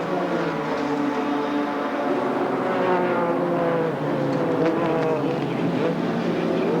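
Race cars run at full power around a racetrack in a 1990 AMSCAR event, a dense sustained engine roar with overlapping revving tones from several cars.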